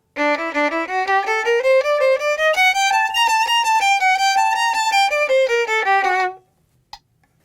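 A bowed string instrument plays a quick run of notes that climbs and then descends, with faint steady ticking underneath and a single click at the end.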